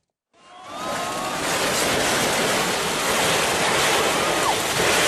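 A flooded Mae Rim river in Chiang Mai rushes hard after heavy rain, a loud, steady roar of churning water that rises after a brief silence and holds continuously throughout.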